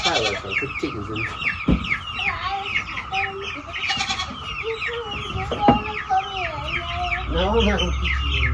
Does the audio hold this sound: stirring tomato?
no